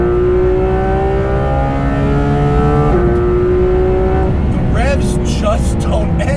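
A naturally aspirated 520-horsepower Porsche 991.2 GT3 RS drives on city streets. Its engine drones and climbs steadily in pitch, drops briefly as if changing gear, then climbs again. Someone talks over the loud engine throughout.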